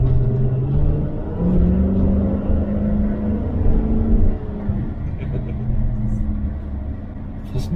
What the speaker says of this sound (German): Hat aber ganz schön die Reifen durchgedreht.